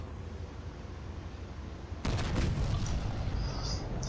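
Tank cannon fire in the war video game On The FrontLine: after two seconds of low rumble, a loud blast bursts in and leaves a dense, rolling roar of battle.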